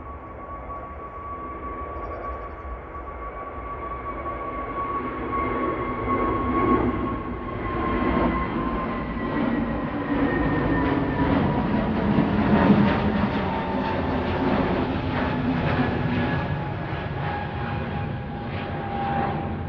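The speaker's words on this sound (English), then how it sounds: "EasyJet 7852 to Amsterdam on the roll now. OELSQ A320 Neo." An EasyJet Airbus A320neo jet roars along the runway on its takeoff roll, a loud steady rumble with rising whine tones that swells slowly and holds, heard alone without talk.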